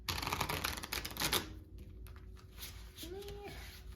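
A tarot card deck is shuffled clumsily, a rapid clattering riffle for about a second and a half, followed by softer, scattered card handling and faint background sounds.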